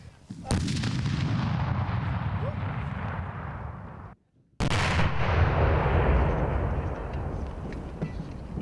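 Two heavy 82 mm artillery gun blasts, loud and close, each followed by a long rolling rumble that fills the air for several seconds.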